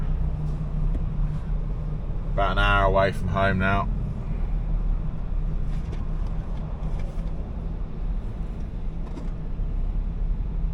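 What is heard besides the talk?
car stuck in stop-start traffic on the M25 motorway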